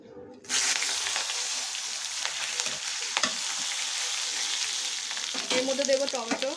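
Spices dropped into hot oil for a Bengali chicken dish: a loud burst of sizzling starts suddenly and holds steady, with occasional stirring scrapes and a faint voice-like tone near the end.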